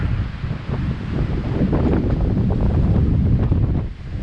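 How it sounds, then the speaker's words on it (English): Strong, gusty wind roars across the exposed summit of Carter Dome in the White Mountains, buffeting the microphone with a continuous, loud rumbling rush that barely eases throughout. "Our wind is whipping through here, which it always is."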